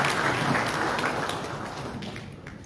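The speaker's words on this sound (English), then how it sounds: "Let's give him a round of applause." A hall of delegates at a joint ECOWAS statutory meeting in Liberia applauds a commissioner, a continuous wash of clapping that stays steady and slowly eases off, with no voices over it.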